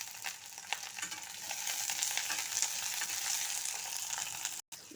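Onion, ginger, garlic, chili and garam masala fry in hot oil in a pan, giving a close, steady sizzle with occasional stirring scrapes and one brief cut of silence near the end.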